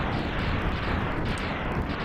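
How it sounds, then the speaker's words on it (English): Rapid overlapping explosion bursts from an enemy death effect in the video game Mega Man X, a dense, continuous rumble of blasts filling about two seconds, loud and without speech. "the much cooler multi-explosion death effect, as opposed to just the rapid burst"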